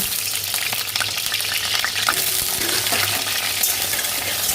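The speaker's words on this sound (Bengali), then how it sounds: "এই যে একটু আলু আর গোটা রসুন রেখেছি এগুলোকে ভেজে নেব" Potatoes and whole garlic fry in hot oil in a wok, giving a steady, dense sizzle with light crackles and occasional stirring scrapes throughout.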